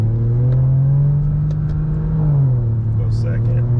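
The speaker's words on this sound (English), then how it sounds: "I'll put it in manual mode and go through the gears." A car in sport mode with a manual-style gearbox, pulled away from a stop, its engine droning steadily near and loud before the pitch drops at an upshift and climbs again.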